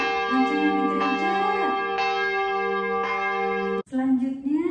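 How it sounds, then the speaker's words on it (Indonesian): A church bell rings with long, sustained tones, struck several times at a steady pace, the resonant hum lingering between strikes. "Coba kita dengar lonceng di gereja."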